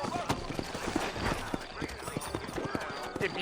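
Horse hooves clip-clop in steady, uneven beats in the Red Dead Redemption video game, close and fairly loud, with a horse whinny briefly audible and people talking over the hoofbeats.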